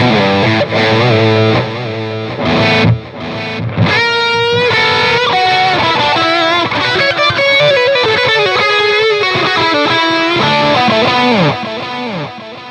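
A heavily distorted electric guitar plays a metal riff through the Audio Assault The Crown amp simulator, its tone widened by shimmering chorus and trailing delay echoes, loud and continuous.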